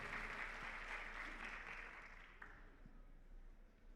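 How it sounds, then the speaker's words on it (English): Audience applause at a dental hygienist awards ceremony, a broad wash of steady clapping from a crowd that gradually fades out over a few seconds. "Big applause for Andrea."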